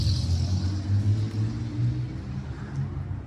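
Steady roar of passing cars on a busy road, with low rumbling engines and tire noise swelling and fading, heard from beside a 2022 Jeep Wrangler 392 Xtreme Recon, loud and continuous with no voices.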